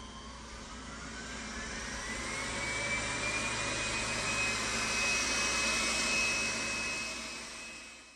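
A Roborock Q7 Max+ robot vacuum's motor whirs and hums continuously while cleaning the floor, with a rising whine that swells louder midway and fades slightly at the end.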